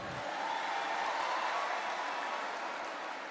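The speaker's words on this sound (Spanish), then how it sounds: "un aplauso al Banco Reserva" Audience applause, a steady wash of clapping from a crowd that holds evenly throughout at moderate volume.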